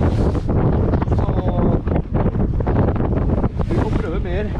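Wind buffets the microphone steadily on a fishing boat at sea off Hitra, Norway, a loud continuous rumble with a voice talking over it.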